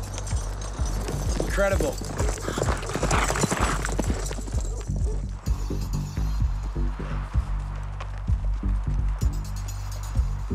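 Horse galloping at full speed across cold subzero terrain while its rider holds a golden eagle; rapid hoofbeats thud steadily beneath a person talking over them.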